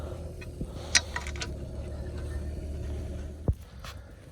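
A wrench fitting wheel bolts back onto a spare wheel during an emergency flat-tyre change, giving soft mechanical ratcheting and a couple of sharp metallic clicks over a low steady background hum.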